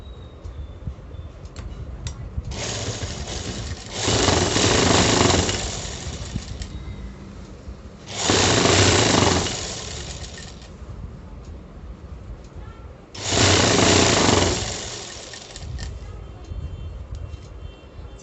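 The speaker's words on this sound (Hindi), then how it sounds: "इस तरीके से हमें ये वाली सिलाई भी कंप्लीट कर लेनी है।" A sewing machine runs in three bursts of a second or two each, stitching the bottom seam of a palazzo, with a steady motor whir that rises and stops between pauses, over a constant background hum.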